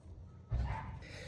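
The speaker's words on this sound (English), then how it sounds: "That's the dog." A single short dog bark close by, followed by a brief softer whine, with quiet room background before it.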